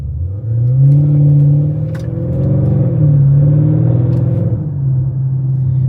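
A Porsche GT3 drives nearby in Miami traffic with a steady low engine hum and some rising revs. A faint tonal whine sits on top, but the turbo whistle is not clearly picked out.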